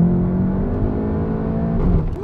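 A Seat Leon Cupra 300's engine accelerates with a loud, close, steady drone that rises in pitch toward the end, with no one talking.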